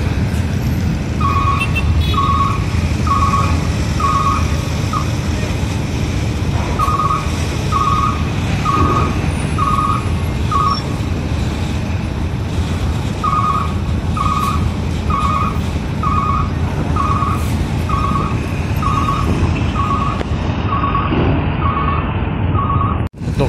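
Trucks queueing at night at Bakauheni ferry port during the holiday exodus, a loud steady rumble of engines and traffic with repeated reversing beeps pulsing in evenly spaced bursts, broken by a couple of short pauses.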